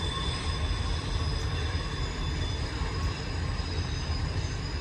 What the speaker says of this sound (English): Wow, that train's really sped up.